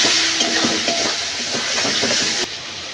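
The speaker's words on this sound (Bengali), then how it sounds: "এবার মশলাটা ভালো করে কষিয়ে নেব।" Spice masala sizzles in hot oil while being sautéed for okra chorchori, a steady close hiss of frying with faint scraping stirs, dropping slightly in level near the end.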